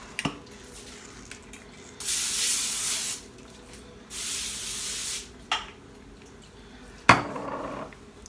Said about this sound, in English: I sprayed this so close to the candle, I just for a second thought flames were about to go up